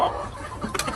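Roundhead gamefowl chickens, Albany and sweater crosses, cluck around scattered grain at feeding time, with a few short, close calls rising over steady farmyard background.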